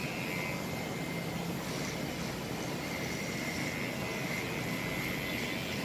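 Steady, even drone of a running Wmark NG-115 engine held at 7,000 RPM, a constant broadband hum with a faint tonal whine, moderately distant and unchanging throughout.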